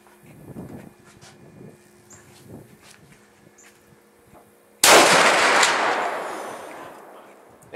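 A single loud gunshot from an Armalite AR-50 .50 BMG rifle fired at a barrel target 200 yards out rings out sharply after quiet talk, its blast decaying slowly over several seconds.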